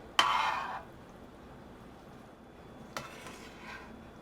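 A utensil scrapes and clinks against a pot while fluffing cooked rice, one sharp stirring scrape followed by a fainter second clink, close up over a quiet background with no talk.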